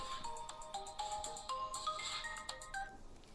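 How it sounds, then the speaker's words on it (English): A telephone ringtone plays a quick, bright electronic melody of repeated beeping notes, fairly quiet and heard alone for a few seconds. "Oh, that's the phone."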